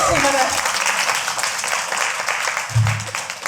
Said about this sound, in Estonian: Nii et teeme Katrele aplausi